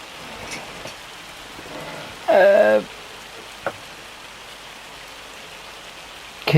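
Hail beats down in a Farming Simulator 25 game scene, a steady hiss of falling ice and rain with scattered sharper hits and a brief tonal sound partway through.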